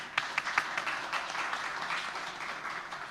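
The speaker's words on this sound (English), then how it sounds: "So we must thank them with big applause to our panelists." Audience applause for the panelists at a climate change and gender justice conference session: moderate, steady clapping from a seated crowd with a few sharper claps near the start, fairly distant and faint.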